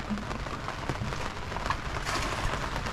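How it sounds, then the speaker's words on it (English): Rain falls steadily on a sailboat moored in Carriacou ahead of a tropical storm, a soft, even patter with scattered nearby drops and no voices. "it's nice and cool today with all this rain"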